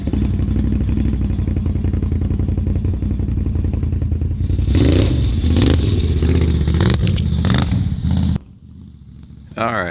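Yamaha Warrior ATV engine running steadily and loud on a Perry State Forest trail, revving with rising and falling pitch and occasional clattering bumps, then briefly dropping to a quieter idle before picking up again.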